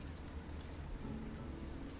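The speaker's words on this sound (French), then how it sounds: "Il y a de la pluie." Steady rain in My Time at Sandrock, a dense, even hiss with no speech, faint and constant throughout.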